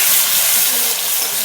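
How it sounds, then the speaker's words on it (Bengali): Ground spice paste sizzling in hot oil while Bengali-style red chicken curry is cooked, a steady close hiss with no clear breaks. "গুঁড়ো মশলার পেস্টটা দিয়ে দেব।"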